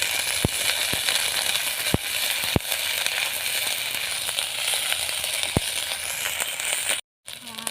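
Garlic paste fries in a pan with a steady, loud sizzle and scattered sharp crackles and pops, cut off by a brief silence near the end.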